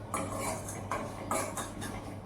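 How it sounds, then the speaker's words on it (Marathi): Cashews and almonds are stirred in a pan at home, with metal utensil scrapes and clinks coming in repeated strokes over a faint low hum, close but fairly quiet. "सगळं ते टाकते काजू बदाम वगैरे सगळं आणि हे पण एक दोन तीन मिनटं परतवून घेते"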